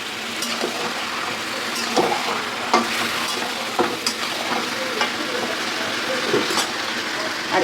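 Chicken and mixed vegetables frying in a pan, a steady crackling sizzle with regular spatula clanks and scrapes as the pieces are stirred and turned.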